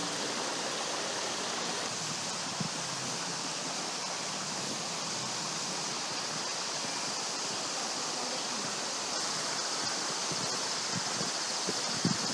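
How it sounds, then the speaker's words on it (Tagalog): Water babbles and rushes continuously over rocks in a nearby stream, a steady wash of sound with occasional soft rustles. "dinig na dinig yung lagaslas ng tubig"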